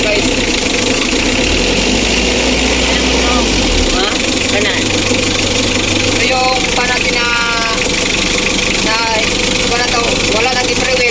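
A Mitsubishi L300 with a 4D56 diesel engine idles steadily up close, its low throb continuous under people talking nearby, with mild overheating from a leaking radiator.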